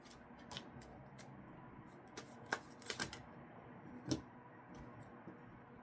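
Tarot cards being shuffled and drawn close by, heard as quiet riffling with scattered crisp snaps and taps in an otherwise hushed room, with no talk over it.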